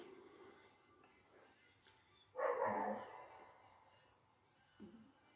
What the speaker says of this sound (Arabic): كلب سميناه ريكس